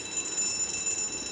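An alarm rings inside the horror video game Endless Nightmare, a steady, shrill electronic tone that sustains continuously through the short moment with a faint hum beneath it.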